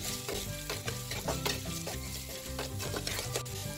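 Hakka noodles are stir-fried in a pan with a continuous crackling sizzle and repeated clattering tosses and scrapes of the utensil, busy and close, with no talk.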